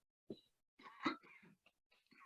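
A few quiet coughs and throat-clearing bursts, close and soft, separated by short pauses.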